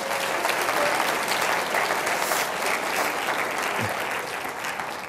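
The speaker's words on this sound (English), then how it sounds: "Mr. Benninger, give him a round of applause." An audience at a talk on inclusivity and diversity gives a round of applause, steady dense clapping that holds level and then eases slightly toward the end.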